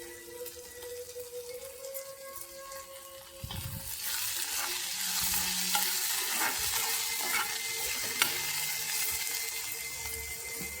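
Beans frying in oil in a pan, quiet at first, then a steady close sizzle breaking out with scraping stirs and clinks of the spoon.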